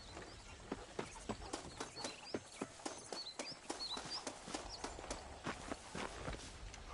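Horse hooves clip-clop at a steady walking rhythm in the video game Red Dead Redemption, faint and regular, with birds chirping softly in the background.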